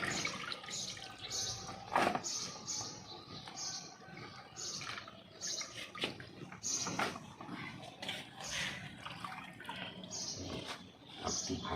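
Leafy green vegetables are soaked and washed in water, giving continuous splashing and running-water sounds with sharp sloshes and drips throughout, close and moderately loud.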